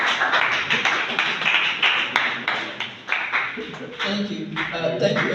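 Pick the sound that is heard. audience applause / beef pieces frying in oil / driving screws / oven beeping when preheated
audience applause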